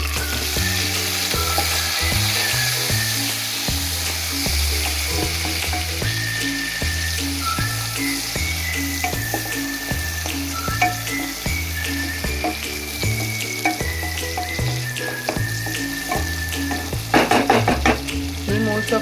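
Onions frying in a pan until browned, a continuous loud sizzle under rhythmic scraping stirs of a spatula, with a brief splashy burst near the end, close up and without talk.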